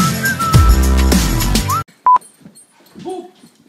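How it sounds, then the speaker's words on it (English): A single sharp whistled tone rings out briefly after a burst of louder mixed noise, followed by quiet background sounds. "so I just whistled at her like."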